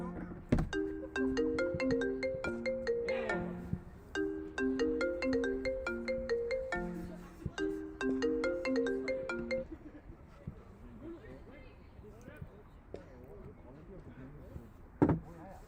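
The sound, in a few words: mobile phone ringtone ringing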